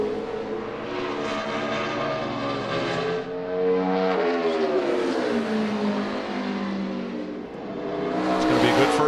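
A NASCAR Sprint Cup stock car, David Reutimann's Aaron's Toyota, on a qualifying lap at Richmond, its engine roaring loudly and shifting pitch as it passes, fading, then rising again, with a commentator's voice faintly beneath.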